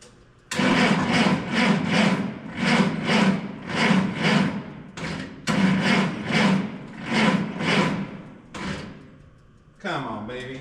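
An old engine with a 6-volt battery cranks on a cold start with the choke on, the starter churning in a loud, rhythmic, labouring whir that repeats in pulses, pauses briefly, then resumes before stopping.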